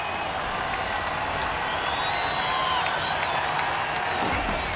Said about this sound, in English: Lots of applause for this Spanish team here at the Red Bull Flugtag.